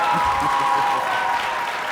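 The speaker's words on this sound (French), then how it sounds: "Applaudissements pour le petit président." Studio audience applauding during a Burkina Faso TV entertainment show, a steady dense clapping wash held throughout with a faint voice or tone underneath.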